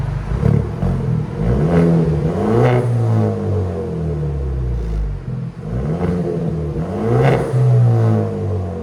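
Close, loud revs from a Genesis G70 2.0L turbo four-cylinder with a Vibrant bottle resonator, several throttle blips rising and falling over a steady idle.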